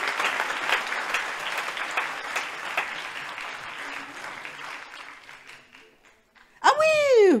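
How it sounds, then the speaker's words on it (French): Applause from the crowd at a NUPES political campaign launch rally for a candidate, a sustained burst of many hands clapping that fades out, followed by a voice speaking over a microphone. "on pourrait peut-être être un peu plus virulent dans les applaudissements"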